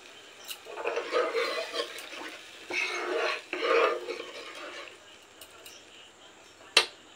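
Water poured into poppy seed paste in a pan for paneer posto, a soft splashing pour in two bursts with light stirring, followed by a brief sharp clink of a utensil near the end.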